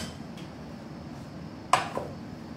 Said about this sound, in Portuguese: Vou pegar minha panela.